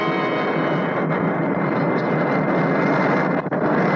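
An airplane engine sound effect in an old-time radio mystery drama, a dense, steady roar of engine noise that stays loud and unbroken throughout, with no voices over it.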